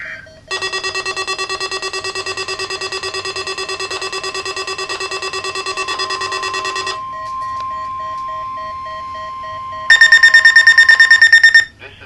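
A long steady NOAA Weather Radio emergency alert tone sounds for several seconds, pauses with a lower hum, then a second harsh tone pulses briefly, loud and close.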